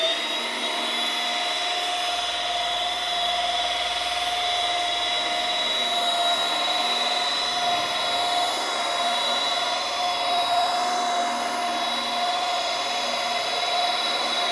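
A rotary polisher set to about 1000 RPM for cutting runs steadily with cutting compound, giving a constant whine with a high, even pitch and a broad hiss, close and unbroken throughout.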